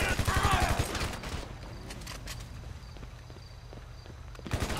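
Rapid bursts of gunfire crackle in GTA Online, loud at the start and again at the end. A steady game background runs in between.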